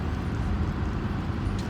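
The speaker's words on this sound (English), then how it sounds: "Put into the parking lot and park the car." A car pulls into a school parking lot, heard as a steady, close low rumble of engine and road noise that holds evenly throughout, with no voices.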